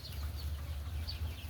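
Chickens kept in a small backyard coop behind a house, soft clucks and chirpy calls over a low steady hum, faint and brief.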